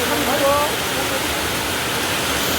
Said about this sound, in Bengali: এই দেখো ওখানে প্রচুর জোর বৃষ্টি হচ্ছে